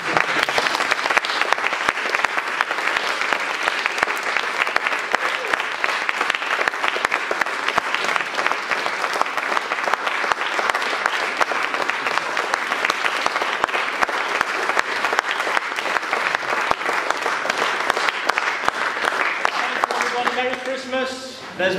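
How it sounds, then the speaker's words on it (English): Closing round of applause for musicians at a 2018 Christmas concert: a large audience claps steadily and loudly for about twenty seconds, then the clapping thins and a voice speaks near the end. "Just come down to the front for a final round of applause."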